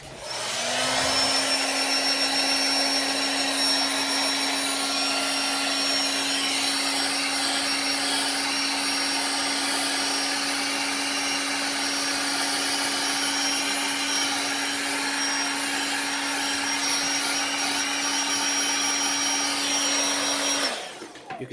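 Paint is heat-set on a 1.5 square bill fishing lure painted pearl white and hot pink: a loud, steady, blower-like whirr runs for about twenty seconds, then cuts off abruptly.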